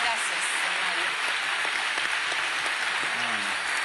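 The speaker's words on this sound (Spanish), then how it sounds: "Vamos a darle un gran aplauso, ¿no?" An audience at a public conversation between a famous author and young people gives steady, sustained applause, a dense patter of many hands that continues throughout, with voices faintly audible beneath it.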